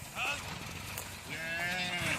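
Several cows moo loudly and close by, long drawn-out lowing calls overlapping one another against an outdoor background.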